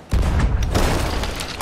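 A cannonball explosion in the pirate game Sea of Thieves lands as a sudden loud boom, then a dense, rumbling burst that slowly decays over a second or so.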